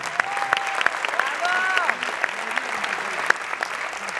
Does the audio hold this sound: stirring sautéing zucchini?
no